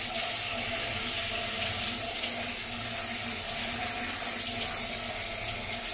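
Warm water pours steadily from a tap over a dog during its bath, a continuous close, loud splashing rush with no talk over it.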